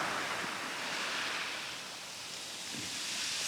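Ocean surf rolls along a rocky coastline near a lighthouse at sunset, a soft, continuous wash of waves that stays faint and distant, with a gentle swell in the noise.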